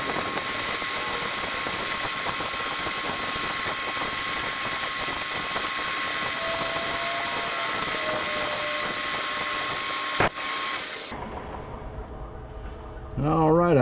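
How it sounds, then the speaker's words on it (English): A center hole is drilled into an outboard motor shaft, giving a steady, loud machine drone that runs unbroken for about eleven seconds, then cuts off as a voice speaks near the end. "let me get her center hole drilled in there."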